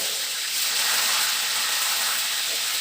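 Thick breadfruit slices fry in hot oil in a wok, giving a steady, loud broadband sizzle and hiss that holds evenly throughout with no talk over it.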